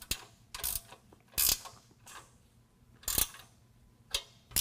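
A 13mm ratchet tightens the bolts of an N-Fab HVM bull bar on a 2019 Ram 1500, giving several loud, close bursts of rapid clicking from the pawl, separated by quieter pauses.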